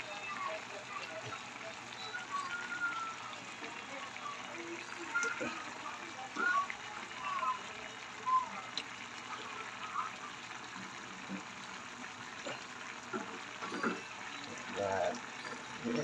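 Fried jackfruit is rinsed under running water, a soft, fairly faint stream with intermittent splashes and handling noises, while a person talks over it.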